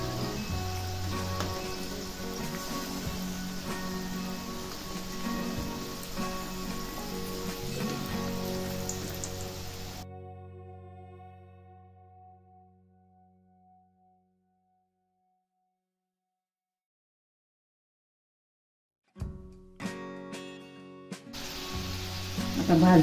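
Puran dhonde, sweet stuffed lentil dumplings, fry in oil over a lowered gas flame with a steady, close sizzle. The sizzle cuts out into near silence, then returns briefly with some clattering.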